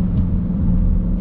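Deep, steady engine rumble from the V8 of a 2021 Dodge Durango SRT muscle SUV, a continuous loud low growl with no pauses and no one speaking.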